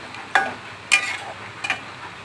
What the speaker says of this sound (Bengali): আর একটু কষাবো আমি আলু দিয়ে।